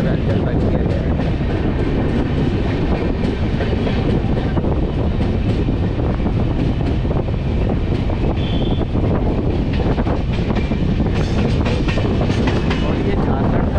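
Poorva Express train running on the rails between Jharkhand and West Bengal, a loud, constant roar of wheels and rushing wind with steady clatter heard from on board, and no one speaking.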